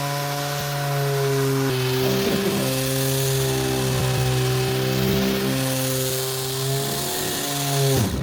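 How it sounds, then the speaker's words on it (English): A power sander runs loud and steady on a wooden dining table being restored, its motor whine holding a constant pitch with rough grinding texture throughout, dipping briefly as it moves across the surface. "We already kind of sanded this down."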